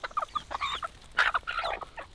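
Several chickens clucking close by at a farm in Jamaica, a run of short irregular clucks and squawks that rise and fall over a couple of seconds, with no talking.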